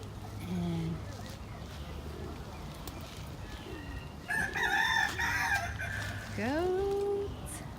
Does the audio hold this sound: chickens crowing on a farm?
yes